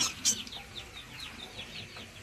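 Chickens cluck and chirp softly while pecking at fresh salad tossed outside their cage, a scatter of short, close, moderately quiet calls over a low farmyard background.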